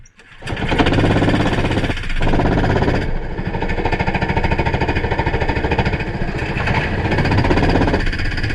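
Go-kart engine at a Kart-maX race round, revving hard and continuously with a buzzing, rattling drone, close and loud for the whole stretch, with brief dips in pitch between pulls.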